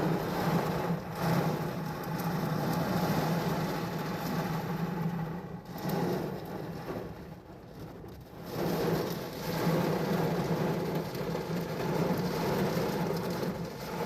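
Steady rain pours during a nighttime thunderstorm, a continuous wash of falling water with rolling swells of thunder rising and fading, and no voices.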